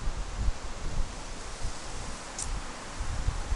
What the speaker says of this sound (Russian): Еще и ветрище такое.